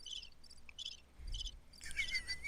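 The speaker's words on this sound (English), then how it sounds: "Crickets. No more crickets." Crickets chirp in repeated short bursts, fairly quiet and nearby, with a low rumble underneath and a denser, louder burst of chirping near the end.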